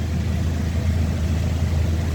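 A 2001 Toyota Commuter van engine runs steadily at idle, a constant low rumble with a continuous broadband hum, close and even throughout, with no voices.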